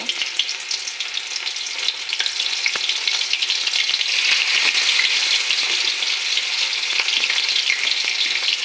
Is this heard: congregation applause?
no